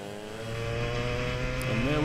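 Racing karts in a Club100 heavyweight sprint race come down the hill at the Glan Y Gors circuit, their buzzing engines rising in pitch and growing louder as they approach.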